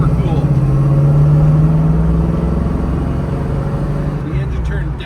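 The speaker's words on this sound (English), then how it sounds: "So good to be able to go out for a spin and row through the gears in this thing." A 1978 Pontiac Trans Am with a four-speed manual drives with its engine droning steadily from inside the car, the tone rising slightly and then easing, while a person talks over it.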